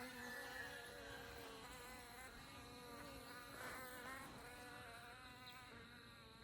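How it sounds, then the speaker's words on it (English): A swarm of honeybees hums in a continuous, wavering buzz, several insects droning together at a quiet, steady level. "the bees that I first moved right there at the front, they're calming down now"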